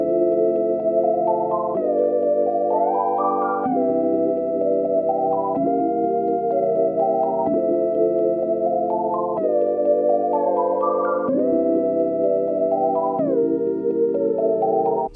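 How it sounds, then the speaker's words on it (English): Counter melody from an Omnisphere synth preset run through a lo-fi plugin, a clear sustained tonal line with gliding pitch steps and held chords underneath, steady and close, with no voices. "I used Omnisphere. I just used the Peer and Spirit preset."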